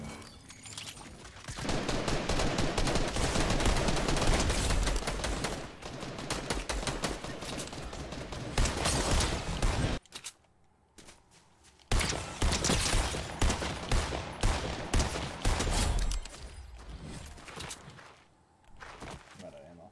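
Rapid SMG gunfire bursts in Fortnite OG Season 6, loud and dense for about ten seconds, a short lull, then more sustained firing with footsteps mixed in; a voice talks over the shooting.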